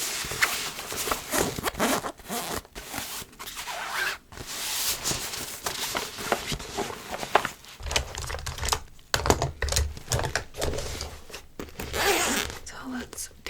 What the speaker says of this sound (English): It zips shut and has a little handle